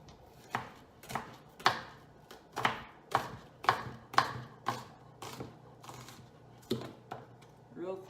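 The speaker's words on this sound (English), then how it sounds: "finish chopping this onion up." Onion being chopped with a knife that is not the cook's favorite, in a home kitchen: a dozen or so sharp, evenly spaced knife strikes against a cutting board, moderately close, with no talking.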